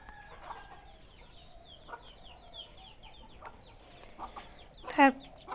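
Hens cluck softly and sporadically close by in a coop, with one sharper, louder squawk near the end.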